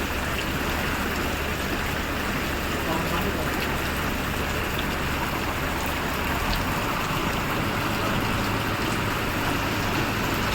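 Steady rain hisses without a break, a dense, even wash of sound close by that stays constant throughout.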